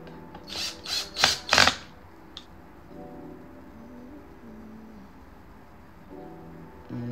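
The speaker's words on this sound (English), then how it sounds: "now let's drill in those cam screws" A power drill drives cam screws into particleboard during assembly of an IKEA Alex/Lagkapten desk, heard as four short, loud, close bursts in quick succession, followed by quieter mechanical whirring and handling noise.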